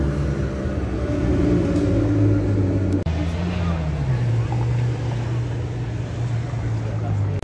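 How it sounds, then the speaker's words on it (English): A Lamborghini Huracan Performante supercar on a Toronto street leaving a car show gives a loud, continuous engine drone whose pitch shifts and settles as it passes close by, with people talking over it. "Look at that Lamborghini Huracan"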